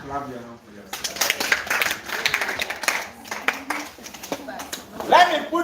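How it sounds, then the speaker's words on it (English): A small group claps their hands during a soap-making class, scattered uneven clapping over talk that runs throughout. "Clap your hands for yourself."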